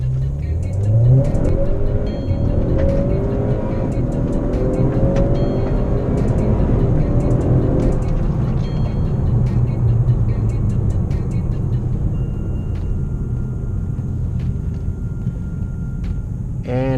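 A 2018 Honda Accord 2.0 with a PRL intake accelerates hard from a stop on an empty road, its engine revving up through the gears from inside the cabin, loud and continuous, with brief shift breaks.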